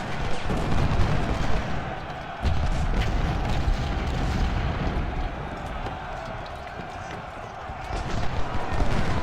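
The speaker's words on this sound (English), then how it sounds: "Also drawing the fire from the other artillery unit." Artillery and musket fire rumble continuously through a Civil War battle in Ultimate General: Civil War at Cross Keys, a dense, steady roar of distant gunfire with scattered sharper reports, loud throughout.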